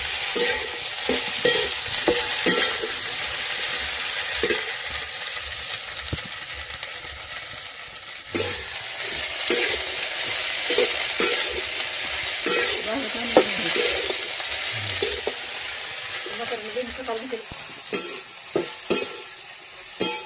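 Okra frying in a pan, a continuous loud sizzle with frequent scraping stirs throughout, close and steady.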